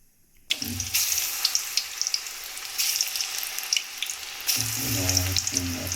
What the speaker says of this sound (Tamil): இப்போ பாருங்கள் இது எண்ணெயில் போட்டு வறுத்துட்டு வந்துடலாம்